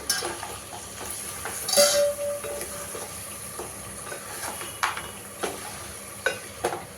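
Crab masala curry stirred in a pan, with a steady low sizzle and repeated scraping clinks of a spoon against the pan, fairly quiet and close.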